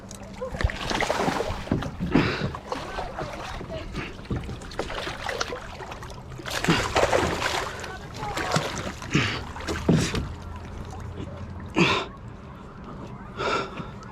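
A kayak paddles on quarry water: repeated irregular splashing and dripping strokes close by, with water trickles and breathy gasps between strokes and soft talk at times.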